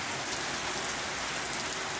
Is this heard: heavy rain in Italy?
yes